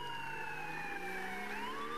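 A police car siren in the video game GTA 5 wails on its own, faint and fairly distant, its tone sliding slowly down and then rising again near the end.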